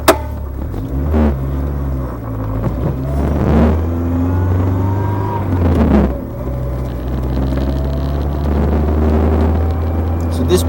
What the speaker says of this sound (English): driving the 87-88 Ford Thunderbird Turbo Coupe